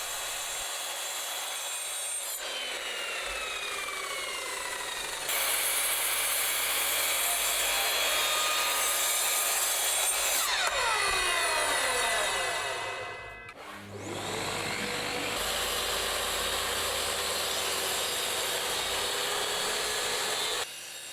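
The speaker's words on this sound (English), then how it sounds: "the saw's barely picked any grain up whilst cutting that at all" Hand saw with a fairly fresh blade cutting through wood in a joinery setting, steady rasping strokes that continue almost without a break, loud and close, with a short pause near the end before cutting resumes.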